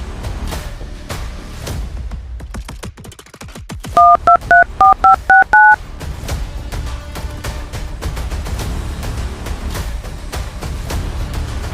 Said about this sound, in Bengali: বসকে ফোন করতে হবে।